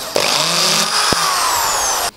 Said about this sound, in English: I'm going to drill bigger holes.